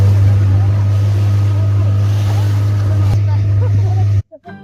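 Motorboat engine droning steadily on the Barakar river at Maithon, loud and close, with wind rushing across the microphone before the sound cuts off abruptly near the end.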